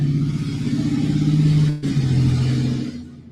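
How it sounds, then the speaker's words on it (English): A loud truck engine passes close by with a steady low droning hum and a brief dip midway before the rumble fades out, with no voices over it. "Get on up out of here with that loud truck."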